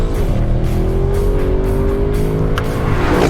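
A 2021 Audi RS6 wagon drives on a race track, its engine holding a loud, steady drone close by as the pitch climbs slowly, with a brief shift-like change near the end.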